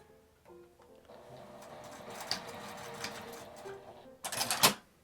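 A sewing machine stitches a fabric face mask in short, quiet mechanical runs that build gradually, ending in a louder burst of clattering near the close, with no voices.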